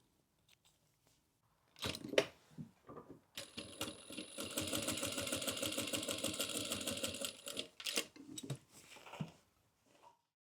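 A home sewing machine stitches across a bag's zipper panel with a short back stitch, a steady close mechanical whirr of rapid needle strokes lasting several seconds, bracketed by brief starts, stops and handling clicks.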